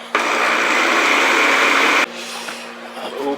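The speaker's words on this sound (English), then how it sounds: "We're going to go ahead and blend it till it's smooth." A kitchen blender purees broccoli and spinach, with a loud steady whirring roar for about two seconds that then cuts to a lower, rougher running hum.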